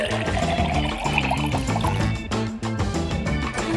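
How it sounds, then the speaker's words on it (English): Water poured into a toy magic cauldron, a continuous loud liquid gush and fill with bubbling and dripping throughout, close by with no talking. "First, I pour some magic water."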